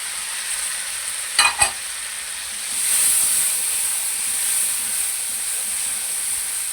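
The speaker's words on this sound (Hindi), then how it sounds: "इसको हम कम से कम 5 मिनट भूनेंगे।" Tomato masala with salt and turmeric sautéing in a pan, giving a steady soft hiss of frying. Two quick clinks of a utensil come early, then the sizzle swells briefly. No voice is heard.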